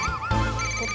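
A telephone ringtone that imitates a chicken's clucking, a short, warbling electronic tone heard fairly quietly, with no voices over it.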